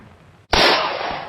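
A single loud revolver gunshot rings out abruptly after a brief silence in a horror film, its sharp crack followed by a long, ringing decay.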